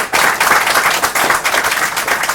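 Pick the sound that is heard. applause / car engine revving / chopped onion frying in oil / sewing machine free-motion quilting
applause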